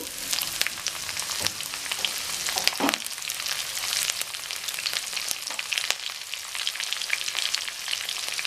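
Chillies, dried and green, and curry leaves fry in hot oil for a crunchy poha snack, a steady close crackling sizzle with small pops and a brief stir scrape near three seconds, no voices.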